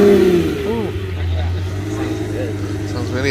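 A Lamborghini Gallardo starts up aggressively at a San Jose car meet, then its engine revs in short high-pitched bursts over a steady idle, close and loud, while people talk nearby.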